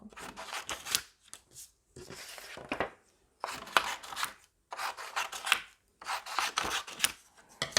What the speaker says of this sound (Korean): 큰 종이에 있는 작은 것들을 오릴 때는 얘네를 조각조각 잘라주세요